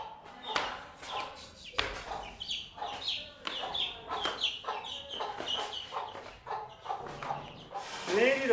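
Young chicks and fowl cluck and chirp in short, close bursts, with some background noise and a few sharp knocks mixed in.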